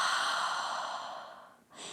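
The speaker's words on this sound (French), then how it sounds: "Et par la bouche, expirez." A single long, soft exhale through the mouth during a yoga breathing exercise, steady and close, fading out before a brief new breath begins at the end.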